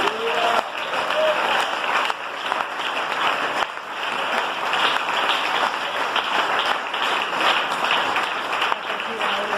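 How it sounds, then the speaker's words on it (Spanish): A church congregation bursts into sustained applause and clapping during a worship service, loud and continuous with voices mixed in throughout. "Da ese aplauso a él"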